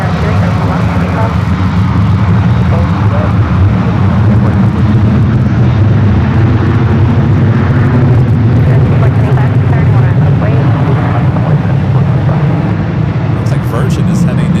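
A Frontier airliner takes off from runway 2 left at San Francisco airport, a steady loud jet roar with dense rumble that holds for the whole stretch, with radio voices talking over it.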